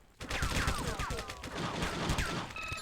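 Heavy gunfire rips through a shootout in True Crime: Streets of LA, a dense loud fusillade of rapid shots and ricochets starting abruptly and continuing without pause.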